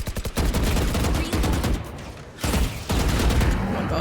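Rapid video-game gunfire, dense automatic bursts crackling loudly and close, with a brief pause midway before the shooting resumes.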